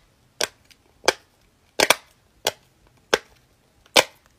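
A Butterfly Dimple fidget toy gives six loud, sharp pops at irregular intervals of about half a second to a second, each crisp and snappy, with quiet between and no talking.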